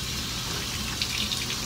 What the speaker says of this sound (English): I just fill it with hot water, and then I just pour it on top of my cloths